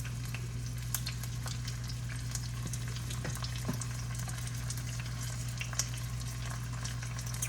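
Asparagus spears laid in a pan of hot oil, giving a steady crackling sizzle with small pops over a constant low hum, close and even, with nobody talking.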